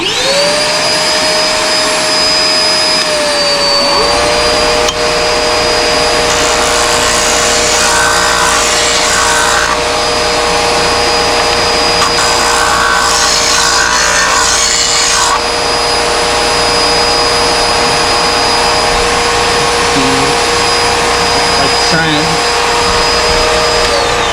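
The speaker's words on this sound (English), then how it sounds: "I use a vacuum, and it goes in and vacuums up the wood dust." A vacuum cleaner sucks up wood dust at a lathe while a twist pen is being turned; a loud, constant motor whine with shifting pitch that runs the whole time, with rattling debris and brief bumps along the way.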